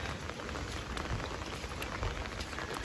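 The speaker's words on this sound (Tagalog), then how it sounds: "Bumabagyo, malakas ang ulan." Heavy monsoon rain pours down steadily during a storm, a dense, even hiss of drops drumming on surfaces with no voices.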